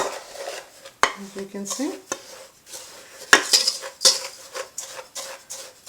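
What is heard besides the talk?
whisk mixing pink salt bar mixture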